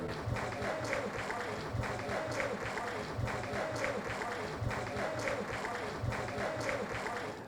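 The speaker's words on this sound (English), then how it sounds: "They all deserve a warm round of applause." A crowd at a club reunion and award ceremony gives a warm round of applause, steady and fairly quiet, with scattered voices mixed into the clapping.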